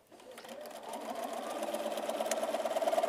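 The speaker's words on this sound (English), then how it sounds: "I'm going to put this in my machine, I'm going to sew a 1/4 inch on either side of the line" A sewing machine stitches a quarter-inch seam through quilt fabric, its motor whirring steadily and building speed into a fast, even run, close and alone.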